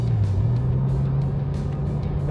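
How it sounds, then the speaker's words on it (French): A Porsche GT2 RS drives with a steady, loud engine drone that holds an even pitch throughout, a continuous close-up rumble with no talk over it. "Mes premiers tours dans une GT2 RS."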